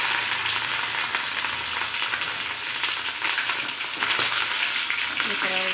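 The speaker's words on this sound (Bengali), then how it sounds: "তেলটা গরম হয়ে গেলে মাছের ডিমটা দিয়ে দেবো" Fish roe frying in hot oil in a wok, a dense continuous sizzle and crackle close up, steady throughout with a faint scrape near the end.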